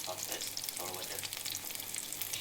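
Carrot, egg and flour fritter batter frying in hot oil, a soft, steady sizzle with a few faint bubbling surges, quiet and close, heard alone.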